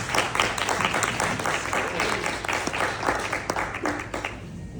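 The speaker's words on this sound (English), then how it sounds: "let's give a round of applause" A live audience at an artist talk claps to welcome an artist, producing a dense, sustained round of applause that tapers off near the end.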